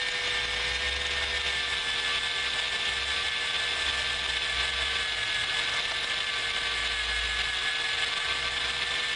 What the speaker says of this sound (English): You can hear the drill motor sort of stops working so hard once it stops cutting the brass